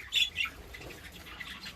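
Pet budgerigars in a breeding cage give a couple of sharp, bright squawks near the start, then softer scattered chatter and rustling fill the rest at moderate distance.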